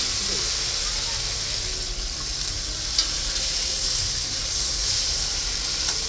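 Water hits a pan of frying masala and potatoes for a hilsa and Malabar spinach curry, giving a steady, close sizzling hiss that stays even and loud throughout.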